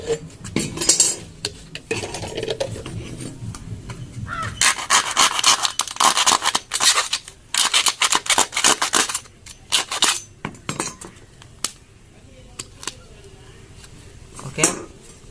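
Someone cuts an empty plastic bottle up close to make a water-tank cleaner, with crisp crackling snips and scraping bursts in uneven clusters separated by quiet gaps.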